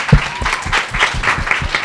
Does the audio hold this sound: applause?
yes